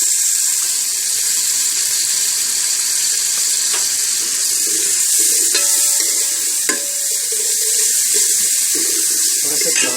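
Onions sizzle steadily in hot ghee in a cooking pot, a dense, bright hiss running throughout with occasional stirring clicks and scrapes up close.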